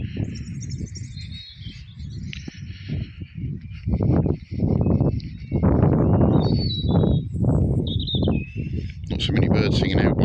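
Small birds chirp and whistle in a Cornish village on an early February morning, faint high calls scattered over louder low rumbling bursts of nearby voice or handling noise.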